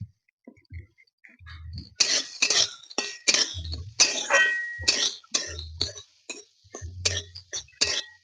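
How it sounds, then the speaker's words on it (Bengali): Lentils frying in oil in a pan and being stirred, a quick run of sharp scraping and clinking strokes against the metal, close by and rhythmic, with a few soft thumps between them. "এই তেলের মধ্যে ডালগুলো দিয়ে দিচ্ছি। ডাল আমি ভালো করে ধুয়ে রেখেছিলাম, এবার ডালগুলো দিয়ে একটু নেড়ে চেড়ে নেব।"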